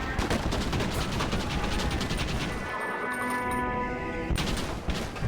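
Dense, rapid machine gun fire in the Red Dead Redemption western shooter, continuous and loud throughout with other gunshots mixed in, briefly thinning midway before the barrage picks up again.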